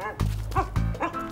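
A dog barks three times in quick succession, loud and close, each short bark followed by a brief pause.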